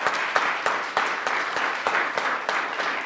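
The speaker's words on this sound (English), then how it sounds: "Please give him another round of applause." Audience applause after a piano performance at an arts and culture event, a steady round of many hands clapping with some individual claps standing out, moderately loud and without talk.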